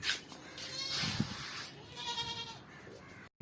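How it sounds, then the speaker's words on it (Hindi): A two-tooth goat at a livestock market bleats a few times nearby, the calls rising and breaking over faint background noise, with a brief cut near the end. "ये बकरा है मेरे पास"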